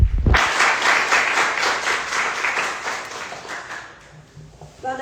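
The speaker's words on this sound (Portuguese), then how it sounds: "Uma salva de palmas para os dois." Audience applause at a university history-talk event in Lavras, Brazil: sustained, dense clapping from a crowd that swells at once, holds steadily, then thins out and fades toward the end, with no speech over it.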